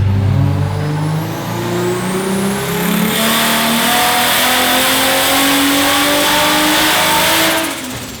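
A turbocharged Holden Barra engine in a car, revving hard as boost is raised, its loud rising engine note climbing steadily over several seconds and then easing off at the end.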